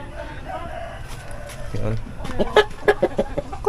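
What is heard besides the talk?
chickens waiting to be fed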